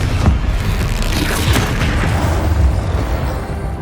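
Spell explosions from Bombardo and Confringo in the video game Hogwarts Legacy, a dense run of loud booming blasts and bursts that keep rolling over one another through the whole stretch with no break.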